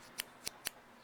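Small scissors on a metal carabiner multitool snip three times in quick succession, each a sharp crisp metallic click, close and distinct against quiet background.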